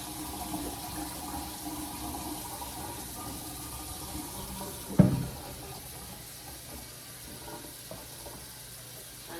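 Tap water runs steadily while dried sorrel hibiscus is washed in a kitchen, a low continuous splash with one sharp knock midway.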